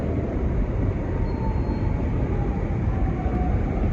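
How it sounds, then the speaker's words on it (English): A Market-Frankford line subway train runs steadily through the tunnel near City Hall, a loud continuous rumble and roar with no breaks, heard from the head end. "69th Street train making all stops."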